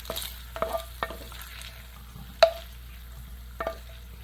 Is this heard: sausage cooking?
yes